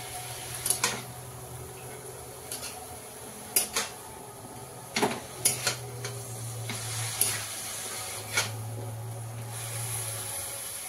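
Leafy greens and fish stirred together in a pan, with intermittent scraping and knocking of the utensil against the pan over a soft background sizzle, the strokes coming in irregular bursts.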